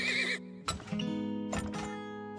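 Horses in the oil-drilling game Turmoil give several loud, close whinnies in quick succession, with a high neigh at the start and two more bursts after short pauses.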